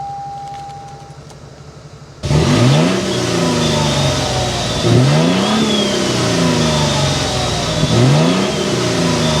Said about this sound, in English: start up this bad boy so you can hear that exhaust note